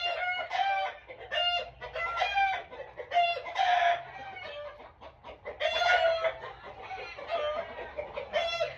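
Chickens cluck and squawk close by in busy, overlapping bursts, with a rooster-like crow rising among them.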